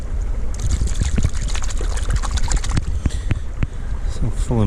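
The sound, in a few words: rinsing a muddy object in a burn (stream)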